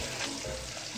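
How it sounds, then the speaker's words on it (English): Jajangmyeon ingredients sizzle and crackle steadily in a hot pan, a dense, close frying hiss with no voices. "Not only do I love the sound of sizzle, but I love to watch stuff sizzle."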